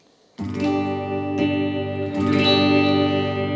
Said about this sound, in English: So the EQ shifts and it adds a little bit of distortion.